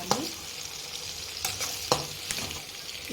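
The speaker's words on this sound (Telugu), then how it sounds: "ఆనియన్ కొంచెం ఎర్రబడే వరకు వేగించుకోవాలి." Onions fry and sizzle in a pan as a spoon stirs them, a steady crackling hiss broken by several scraping stirs, close and alone with no talk.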